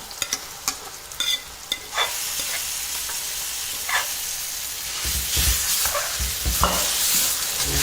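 Mashed gongura greens go into a pan of shallots sautéing in sesame oil, bringing a hissing sizzle with scattered clicks of stirring that swells louder and denser toward the end, with no voices.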